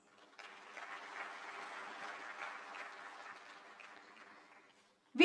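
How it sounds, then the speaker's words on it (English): Audience applause in a hall at a celebration, a moderate burst of clapping that swells briefly and then fades over about four seconds before stopping. "A huge round of applause for them, please."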